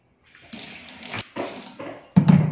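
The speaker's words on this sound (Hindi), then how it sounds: "चावल अच्छे से 4 से 5 पानी से धुल लिया है" Coarse raw rice being washed in water, with close splashing and swishing bursts as the grains are swirled and rinsed, ending in a louder slosh.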